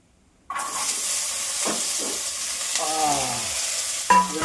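Onion and tomato fry in a pan with a steady close sizzle that starts abruptly, while a spatula stirs and scrapes through the mixture with a few clinks.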